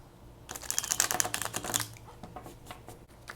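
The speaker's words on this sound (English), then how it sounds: "Let me shuffle these cards really quickly." Tarot cards shuffled by hand, a quick burst of dense riffling clicks that tapers into a few scattered taps, close and alone.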